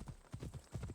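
Horse hooves clip-clop at a steady trotting rhythm in Assassin's Creed Odyssey, set in Kephallonia, about five close, fairly loud footfalls in under a second with no talk over them.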